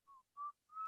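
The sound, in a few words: man whistling to himself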